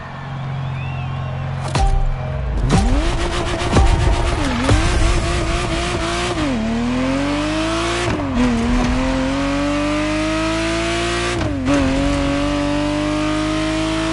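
In The Crew Motorfest racing game, a Ferrari Testarossa engine revs and climbs through repeated rising pulls between gear changes, loud and close, with tire squeal and someone narrating over it.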